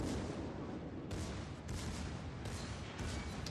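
A Bismarck battleship in World of Warships fires a gun salvo, heard as several low, muffled booms at about one-second intervals over a steady rumbling background, fairly faint.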